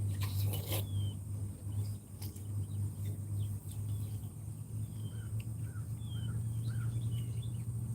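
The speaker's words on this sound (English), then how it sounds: "You hear the birds." Scattered bird chirps and short calls sound faintly outdoors over a steady low rumble of distant traffic.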